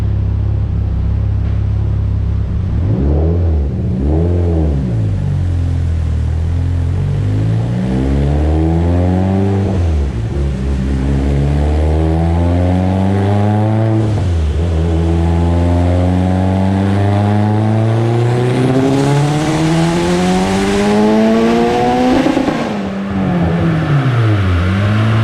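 A bore-and-stroked 2.4L Mitsubishi Evo X with a BorgWarner 9174 turbo, ID1700x injectors, GSC S2 cams and flex fuel revs on a dyno, its loud, close engine note sweeping up and down repeatedly through several rising pulls.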